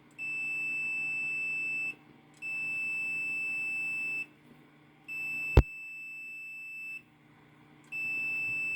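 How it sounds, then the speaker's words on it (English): A multimeter's continuity tester gives four sustained electronic beeps, each roughly two seconds long with brief gaps between them, plus a sharp click partway through, at a soft, close level with no speech. "Full continuity testing to make sure everything here is golden."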